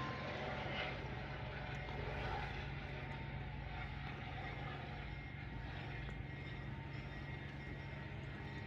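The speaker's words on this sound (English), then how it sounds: "There's a helicopter going. I don't know if I'll see it, but it's flying." A helicopter flies overhead near a railway crossing, heard as a steady low rotor drone with a pulsing low-end throb that holds evenly throughout, fairly distant and unbroken by talk.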